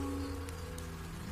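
Steady rain falling, a continuous soft hiss with low hum underneath, fairly faint and even throughout with no voices.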